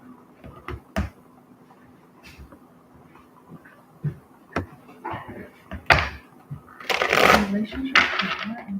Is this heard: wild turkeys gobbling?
no